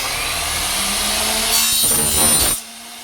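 A freshly sharpened circular saw blade cuts through wood in one sustained, loud, close whine that rises briefly near the end before the cut finishes and the blade idles.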